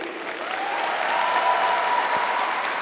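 A crowd applauds loudly and steadily, an even wash of clapping that swells slightly and holds at full strength for the whole stretch.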